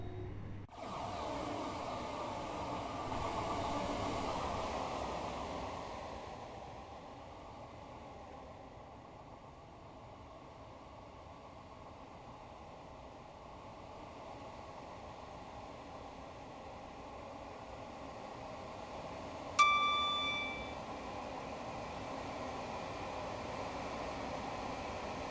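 A train on a Japanese route in the Train Sim World 4 simulator rumbles along steadily at moderate volume, briefly louder at the start, with a short sharp tonal ping near the end and no talk.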